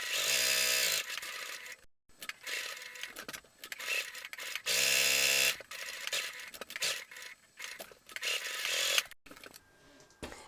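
A sewing machine stitches a welted pocket with its stitch length dropped slightly, its motor whirring in several loud, steady runs broken by short pauses and small mechanical clicks.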